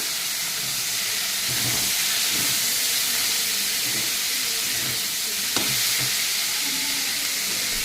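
Banana flower dropped into hot oil tempered with cumin, dried chili and a bay leaf, giving a loud continuous sizzle and steamy hiss, close up, with a single sharp click of a utensil near the end.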